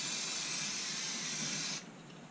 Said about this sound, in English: I'm just taking advantage of this to spray paint some of the baseboard as well